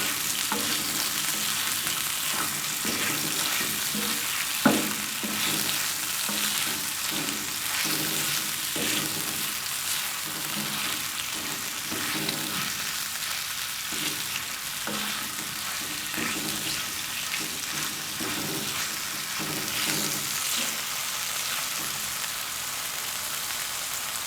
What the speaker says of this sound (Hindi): चिकन को घी में अच्छी तरह फ्राई करें।